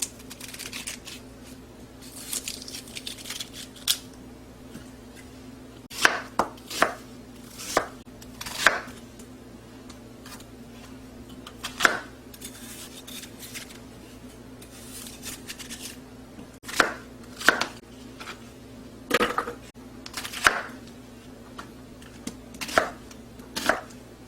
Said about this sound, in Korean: 작은 거 배 하나, 사과 하나, 양파 하나 이렇게 갈아주겠습니다. 같이 잘라서.